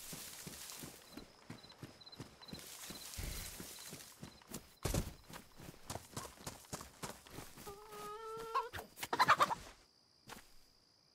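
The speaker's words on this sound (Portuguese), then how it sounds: "Tô ouvindo galinha." Chicken clucking inside the DayZ video game, short repeated clucks mixed with rhythmic footstep-like clip-clop sounds and game ambience, growing louder toward the end with a few sharper squawks.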